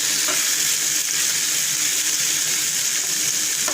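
Chopped ginger and green chilies fry in a pan with a steady, loud sizzle while being lightly stirred, an even hissing wash from start to end.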